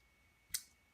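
A single sharp mouse click on a text box, brief and fairly close against a quiet background.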